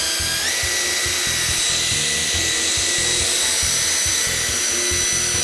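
A steady, high-pitched whir of a dual-action polisher on oxidized black Audi A4 paint runs continuously, with a mechanical drone and rhythmic low thumping underneath.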